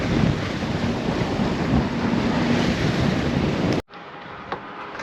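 Strong wind buffets the microphone over rushing sea waves aboard a sailboat, loud and constant, then drops abruptly to a quieter wash of water.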